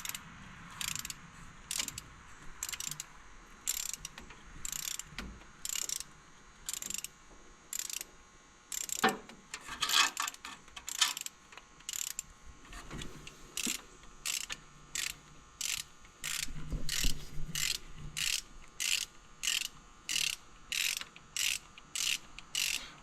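Bolts run down by a ratcheting tool while a big turbo is installed, a rapid series of short clicking bursts repeating steadily and close by, with no talking.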